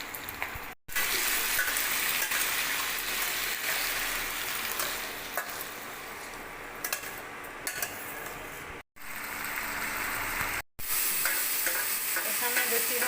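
Continuous sizzling and frying in a pan with stirring, spoon scraping the pan at times, while peas and potato curry cooks; steady and close, broken by a few brief silent gaps.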